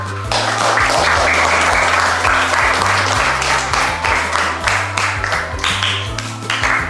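Classmates in a fifth-grade primary school lesson applaud group 1 after their answer, a steady burst of many hands clapping close by that fills the room and tapers slightly toward the end.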